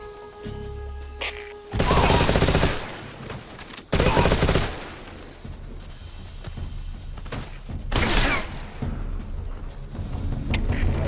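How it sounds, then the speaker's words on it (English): Automatic gunfire erupts in the stealth action video game Metal Gear Solid Delta, loud bursts of rapid shots with heavy thuds breaking out in several waves over continuous game sound. "We're under enemy fire."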